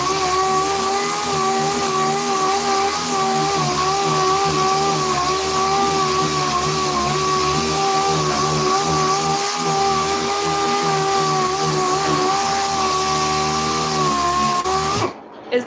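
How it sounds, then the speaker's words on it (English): Disc orbital sander running continuously on car paint, a loud steady whirring hum with a stable harmonic whine for about fifteen seconds before cutting off abruptly at the end. "this is a disc orbital sander. It spins in multiple directions at the same time."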